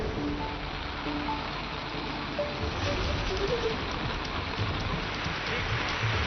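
Heavy monsoon downpour falls in Maharashtra, a steady, even hiss of rain on surfaces that holds throughout, fairly faint and with no voices.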